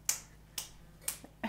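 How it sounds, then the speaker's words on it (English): Four sharp hand claps, spaced about half a second apart and close by, with a faint fifth tap between them and near-silence in the gaps. "Can you clap your hands?"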